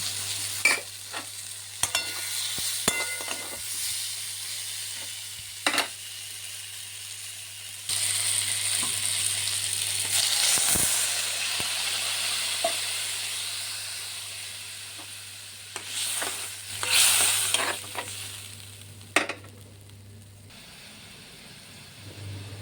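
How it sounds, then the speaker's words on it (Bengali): Potatoes stirred into a sizzling Bengali fish curry with ridge gourd and katla fish: a spoon scrapes and clatters against the pan in irregular strokes over a steady low frying hiss, close and fairly quiet, with no talk. "আলুটাও দিয়ে দিলাম, একসঙ্গে মিশিয়ে নিয়ে নেব।"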